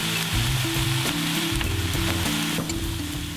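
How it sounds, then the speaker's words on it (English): Chopped tomatoes tumble into a pan of green beans frying in olive oil, setting off a steady, loud sizzle with scraping and stirring over low pan rumble throughout. "And then we'll add all these lovely chopped tomatoes"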